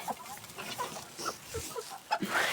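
Hens cluck in short, scattered bursts at close range, with a few sharper calls and no one speaking.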